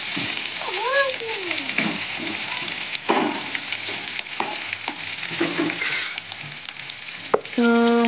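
Okra fries in a covered pan, giving a steady, even sizzle throughout, broken by a brief whining tone near the start and a few clinks and knocks.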